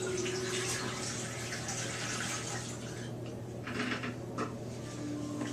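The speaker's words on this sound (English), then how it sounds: "D76 cannot be reclaimed, so we're simply going to dump this one down the drain" D76 film developer poured down a sink drain during film developing: a steady, continuous splashing gush of liquid running for several seconds, close and fairly even, with no talking.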